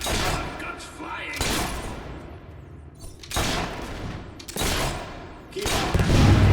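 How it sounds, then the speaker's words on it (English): Heavy gunfire in the video game Fable 3 comes in loud, repeated bursts of rapid shots and booms, separated by short lulls, with a rolling battle din between volleys. "Keep on that shooting and we'll be rid of them in no time"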